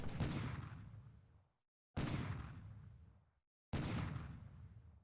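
Destroyers shelling a target in a naval combat replay from a World War II strategy game: three separate booming gun blasts, evenly spaced, each with a short rumbling tail that decays into brief silence before the next.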